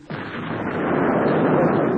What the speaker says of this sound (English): This is the sort of bang you get when an acetylene cylinder explodes.